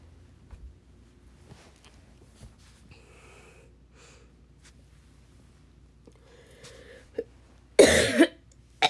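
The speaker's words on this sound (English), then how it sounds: "it's my daily coughing fit" After a stretch of quiet breathing and small throat noises, a person breaks into a short burst of harsh, close coughs, with a last cough trailing after.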